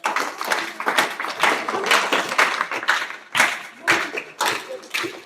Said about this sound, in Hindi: इस भैया के लिए तालियां बजाओ